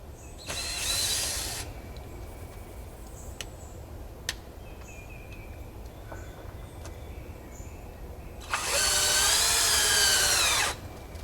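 Power drill driving screws into wood for a sideyard build, two loud whirring bursts with rising pitch, one at the start and a longer one near the end, separated by quiet gaps with faint clicks and knocks.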